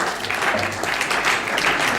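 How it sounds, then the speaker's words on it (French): Audience applause fills a Nzonzing Awards ceremony hall after a best supporting actor prize, dense steady clapping throughout with faint voices underneath. "Est-ce qu'on peut applaudir bien pour l'artiste?"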